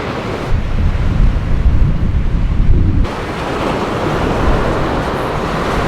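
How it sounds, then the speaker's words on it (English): Small waves breaking on a beach at Seal Rocks, a loud continuous wash of surf mixed with heavy wind buffeting on the microphone that drops back a little partway through, no talking. "Some pretty cool little waves coming in here."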